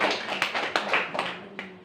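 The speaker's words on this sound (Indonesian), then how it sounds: "Tepuk tangan dulu untuk kalian." A few classroom students clap briefly for their classmates, a short burst of irregular, fairly close hand claps with a soft murmur beneath.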